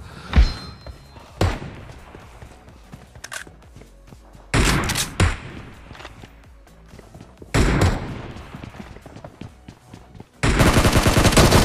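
Video game gunfire erupts in several loud, sharp bursts separated by brief quieter gaps, ending in a sustained, dense stretch of shooting.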